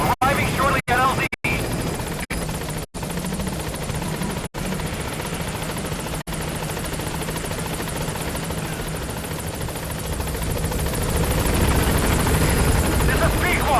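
The Pequod helicopter lands in the video game Metal Gear Solid V, its loud, steady rotor and engine roar filling the whole stretch while a voice speaks over it.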